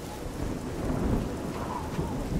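Heavy rain pours steadily with a low rumble of thunder in the video game The Elder Scrolls IV: Oblivion, a dense, even wash of sound without voices.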